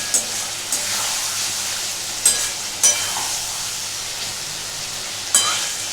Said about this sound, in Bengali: আমি ভালো করে মাছটা কষছি।